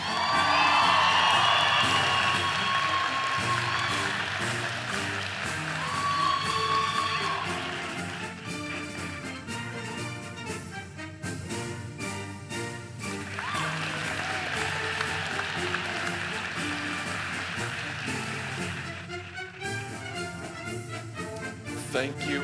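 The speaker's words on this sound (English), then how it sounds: "One more round of applause for the class of 2026" A large graduation crowd at a university commencement applauds and cheers continuously, dense clapping with whoops and shouts throughout, loud and sustained with no break.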